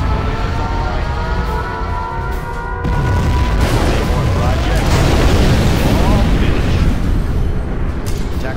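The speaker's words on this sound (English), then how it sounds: "Nuclear missile launched." Nuclear missile launch and detonation in Command & Conquer: Generals Zero Hour, a loud sustained roar that swells into a heavy rumbling blast halfway through, with layered game effects and unit voice lines in the mix.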